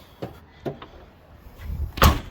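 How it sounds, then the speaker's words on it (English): Rear door of a first-generation Toyota Sequoia shut with a solid, loud slam near the end, after a few lighter clicks and rattles of the latch and panel; no talking. "So I'll shut the door."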